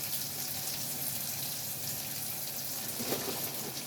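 Tap water runs in a steady, continuous hiss while cooking sambar in a home kitchen, moderately faint with no talking.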